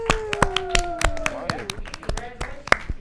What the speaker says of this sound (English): Pete is the winner. Everyone claps.